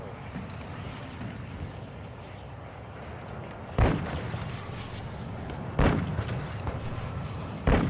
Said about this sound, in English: I can hear shooting over.